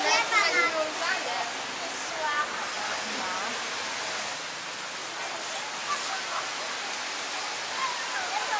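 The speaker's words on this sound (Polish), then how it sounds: "Mocniej pada." Heavy rain pours down steadily at a school in Cambodia, a dense, even hiss of falling water with no breaks, soaking the area and the cables around it. A brief voice surfaces faintly at the start.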